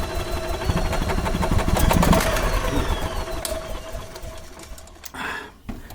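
An engine's starter-generator cranks steadily with a fast, even mechanical whir after its worn brushes were replaced, sounding close and loud before dropping off near the end.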